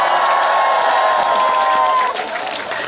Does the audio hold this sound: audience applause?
yes